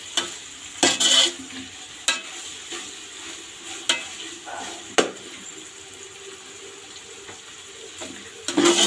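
Chicken pieces fry lightly in a pan for fried rice, a close steady sizzle punctuated by several sharp spatula clanks and stirring bursts.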